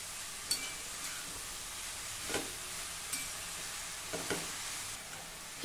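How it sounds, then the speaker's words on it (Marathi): Chopped spring onion greens sauté in a pan over medium heat with a soft, steady sizzle, broken by several light spatula taps against the pan. "आता यामध्ये चिरलेली कांदापात घालू। मध्यम आचेवर आता हे आपण छान परतून घेऊ।"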